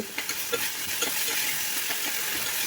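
Onion and tomato fry in oil with ginger-garlic paste, a close, steady sizzle and hiss with repeated scraping and stirring strokes from a spoon against the pan.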